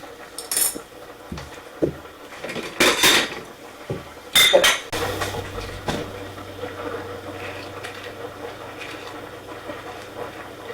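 Muffin batter with avocados and chocolate chips gets mixed in a bowl: uneven knocks, clinks and scrapes of a utensil against the bowl in bursts, then a quieter stretch with faint hum.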